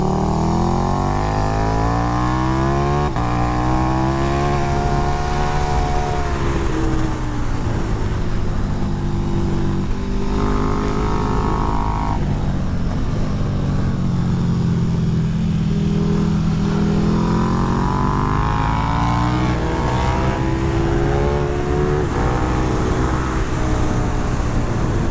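Onboard a 2020 KTM 1290 Super Duke R on a racetrack, the big twin engine roars loud and close, rising in pitch through gears with brief dips at each shift, then pulling hard again, with constant wind rush.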